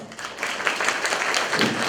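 Applause from an audience in a community culture hall at a grandparents' day celebration, a sustained patter of many hands clapping at moderate volume.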